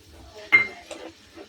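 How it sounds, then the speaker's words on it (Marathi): A spoon scrapes and clinks against a pan while stirring beaten egg with chilli and turmeric for Marathi-style egg bhurji. There is one louder metallic scrape followed by two softer touches, heard close and fairly quiet. "हे बघा, हे असं हलवून घ्यायचं थोडं।"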